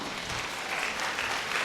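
Staff in the New York Times newsroom applaud as 2018 Pulitzer Prize winners are announced. The clapping is brief, dense and steady, heard from a slight distance with no voice over it.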